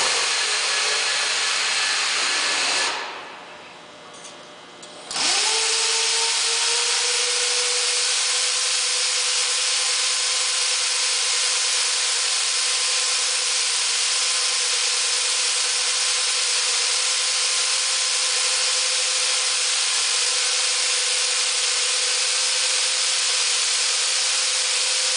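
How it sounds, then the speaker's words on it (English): Bulk bag unloader with its lifting adapter trolley running out, heard as a loud, continuous motorized whine and hiss that pauses briefly, then resumes with a rising pitch and holds steady. "We first have to run the adapter out with the trolley down"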